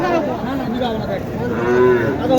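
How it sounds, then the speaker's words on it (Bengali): A young Sahiwal heifer moos at a cattle market in Naogaon, a loud, close, drawn-out lowing call over faint crowd murmur. "এই গরুটা শাহিওয়াল গরু, বকন।"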